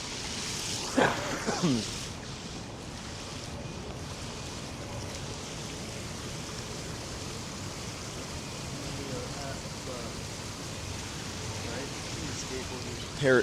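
Water from a fountain's source figure in Echo Park, Los Angeles, a steady rushing wash close by, continuous throughout, with a few brief voice-like sounds near the start.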